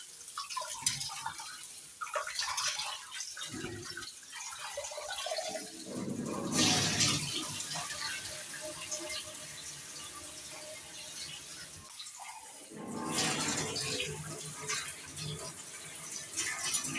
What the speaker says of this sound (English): We have to wash our rice.